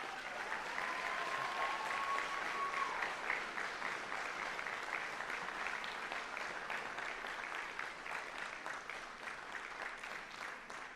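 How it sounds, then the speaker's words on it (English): Sustained applause from a large audience, dense and even clapping that carries on steadily and tapers only slightly toward the end. "giving them the best round of applause we've heard yet today"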